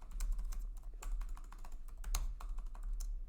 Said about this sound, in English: Oh, I can type today.